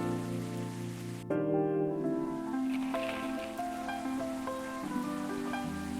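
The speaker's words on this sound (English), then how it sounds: "It's a beautiful rainy night tonight." Steady rain ambience from the video game Coffee Talk, a soft continuous patter heard beneath gentle tonal background music throughout.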